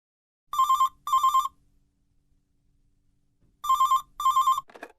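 A telephone rings in two double bursts of electronic trilling, separated by a pause, followed by a brief faint rustle.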